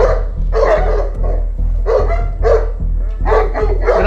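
Several Kangal dogs bark in loud, close bursts of deep woofs, outdoors in the mountains, with brief pauses between the volleys.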